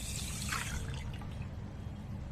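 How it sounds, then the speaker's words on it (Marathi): Water poured into a large copper pot over washed idli rice set to soak, a soft steady trickling and splashing that carries on for the whole clip at low volume with no talking. "आता आपण याच्यामध्ये पाणी घालू"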